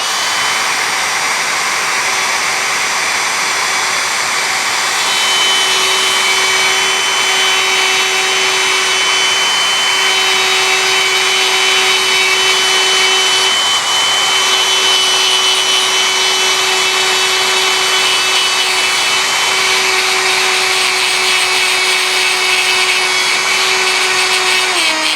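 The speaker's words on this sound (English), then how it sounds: "I'm going to take a die grinder and see if we can V us out a little spot there" A die grinder whines loud and steady as it cuts a V groove into a red brass steam whistle, a continuous high-pitched grinding tone up close that holds for the whole stretch and dips slightly at the very end.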